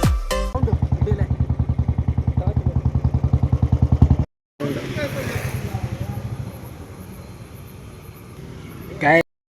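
A Royal Enfield Bullet 350 motorcycle with its stock silencer thumps loudly and close in a steady rapid beat, cuts out briefly, then runs on with a rougher, slightly fainter exhaust rumble before a final burst.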